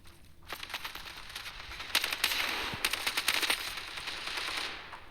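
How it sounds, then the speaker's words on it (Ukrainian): Rapid machine gun fire in the mobile shooter Standoff 2, with dense bursts of sharp, close shots that run on and off for several seconds. "Оце кулемет"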